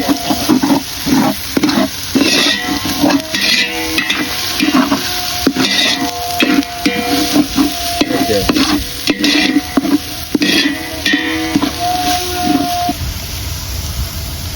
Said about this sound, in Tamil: சில்லி போட்டு நல்லா வதக்கியாச்சு